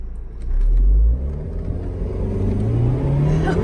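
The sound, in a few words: Audi TT 2.0T Quattro accelerating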